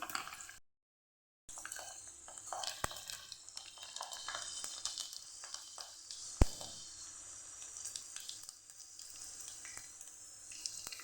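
Cumin, ajwain and garlic cloves sizzle in hot oil for a Kathiyawadi guvar and methi gota curry, a steady close crackling hiss broken by a brief silent gap and one sharp clack partway through.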